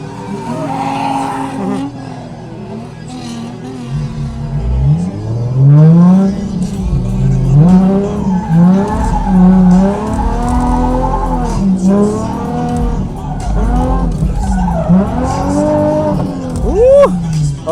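Drift car on a track, running the reverse layout, revving hard and accelerating with tire squeal and skidding; a loud, continuous engine roar with rising and falling pitch close to the listener, with a brief whoop near the end.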